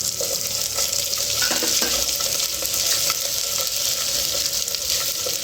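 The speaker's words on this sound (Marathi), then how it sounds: "तो बटाटा छानपैकी हलवून घ्यायचं आहे" Potatoes are stirred as they fry in a clay pot for vegetable pulao, giving a steady close sizzle with light scraping and stirring sounds throughout.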